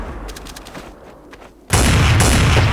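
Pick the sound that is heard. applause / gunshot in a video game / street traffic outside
gunshot in a video game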